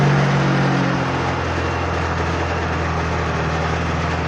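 A Honda BS6 motorcycle engine held at full throttle drones steadily, its low running hum continuous and fairly loud with no clear surge or dip, heard alone without talk.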